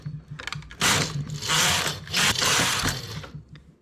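A domestic knitting machine carriage runs across the needle bed to knit the last rows of a double band, giving repeated mechanical clattering, ratcheting sweeps with short pauses between passes, close and fairly loud.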